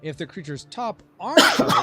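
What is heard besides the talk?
sneeze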